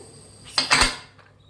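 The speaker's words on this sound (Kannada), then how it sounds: "ಫ್ರೆಂಡ್ಸ್ ನೋಡಿ, ಕುಕ್ಕರ್ ಲಿಡ್ ಕ್ಲೋಸ್ ಮಾಡಿ" Metal clatter and clunk of a pressure cooker lid being closed in a home kitchen while cooking lima bean rice bath, a short cluster of close, bright knocks lasting about half a second.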